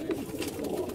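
Kasuri pigeons cooing steadily in a loft, a soft low continuous burble close by with no talk over it.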